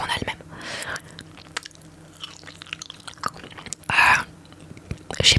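Crispy fried chicken being chewed close to the mic, with soft wet crunches and bites spread over several seconds and louder crunchy bursts near the end, no talking.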